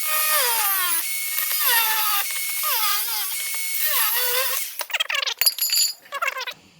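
A power tool whines as it trims a Mitsubishi Evo exhaust downpipe, rising and falling in loud repeated cuts, then breaking into choppy, stuttering bursts near the end.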